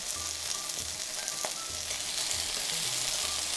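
Chicken pieces sizzle and sear in a frying pan, a dense steady crackle with occasional light clinks and stirring scrapes.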